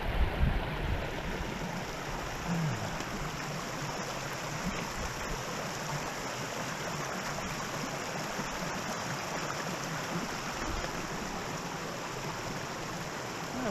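A creek at Bearcat Hollow rushing over rocks, a continuous even wash of flowing water heard close by with no talking.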